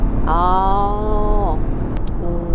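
A BMW X3 30d diesel engine revs up and holds a rising, gravelly drone for about a second before dropping away, with low rumbling idle around it.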